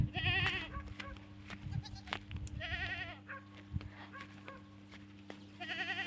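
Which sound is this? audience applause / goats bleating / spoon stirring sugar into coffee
goats bleating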